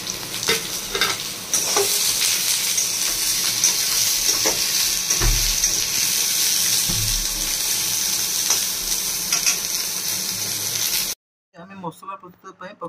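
Masala with chopped beetroot and carrot sizzles steadily in a hot pan while a spoon stirs it, giving continuous frying crackle with scraping strokes, then it cuts off abruptly near the end and a voice speaks briefly.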